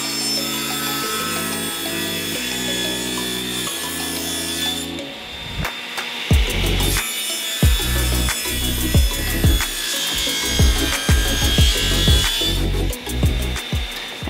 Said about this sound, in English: now I'm gonna go ahead and trim them down to their final dimensions.